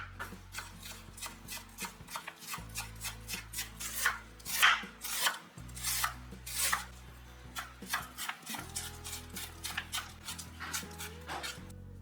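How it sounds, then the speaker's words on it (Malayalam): A knife chops cabbage finely on a board for a cabbage and green peas stir fry, a steady run of crisp, close, rhythmic cuts over a low background hum, with no voices. "അപ്പോൾ ആ ക്യാബേജ് ആദ്യം കട്ട് ചെയ്ത് കൊടുക്കണം. നമ്മൾ സാധാരണ തോരനൊക്കെ കട്ട് ചെയ്യുന്ന പോലെ ചെറുതായിട്ട് കട്ട് ചെയ്ത് വെക്കാം."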